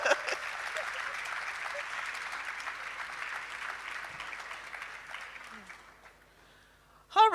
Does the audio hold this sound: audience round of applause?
yes